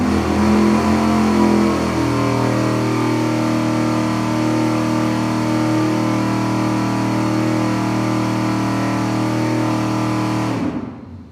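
Engine with aluminum heads held at a steady 4,700 RPM on a dyno, giving a loud, constant drone with strong harmonic tones that drops briefly early on and then cuts off abruptly at the end.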